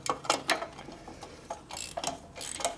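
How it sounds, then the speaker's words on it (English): A ratchet clicks in short bursts while working on a 1974 Harley-Davidson Shovelhead 74ci FX bobber engine, with faint, close, irregular metallic ticking and pauses between strokes. "get a ratchet in there"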